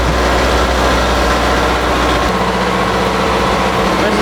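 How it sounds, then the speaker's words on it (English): A shrimp boat's engine room, home to three motors, rumbles with a loud, steady low-pitched drone that fills the space without a break. "This is our engine room here."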